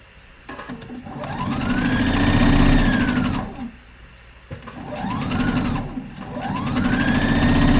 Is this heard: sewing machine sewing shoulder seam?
yes